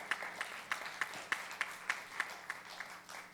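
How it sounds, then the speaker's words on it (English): Scattered applause from a tourism forum audience, with a steady run of about a dozen claps at an even rhythm, fairly faint and distant against a quiet room. "Yes, please applaud."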